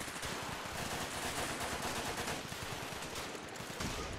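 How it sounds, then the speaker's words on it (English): Dense, unbroken automatic gunfire from the war video game Running With Rifles, with rapid overlapping shots and bursts filling the whole stretch at steady loudness, with no speech over it. "I should stop firing randomly into the enemies"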